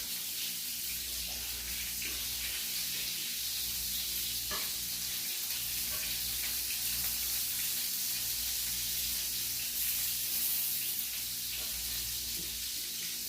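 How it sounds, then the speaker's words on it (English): Meatballs fry and crisp in a pan with a constant, even sizzle that holds at the same moderate level throughout, with no talking. "I tend to make sure that they're pretty much crisped up all the way around, which is what I'm doing right now"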